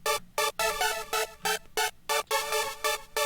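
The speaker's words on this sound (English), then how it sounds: "this is what is known as a super saw, which is a saw wave" Detuned supersaw synth from the Synth 1 plugin, thickened with chorus and an octave-up layer, plays a bright rhythmic pattern of short stabbed chords in steady repeating bursts, loud and alone.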